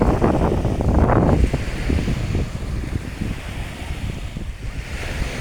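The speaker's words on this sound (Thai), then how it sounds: "หาดแหลมเจริญ" Surf rolls in steadily at Laem Charoen beach in the evening, a continuous broad wash of breaking waves with a louder surge early on, mixed with wind buffeting the microphone.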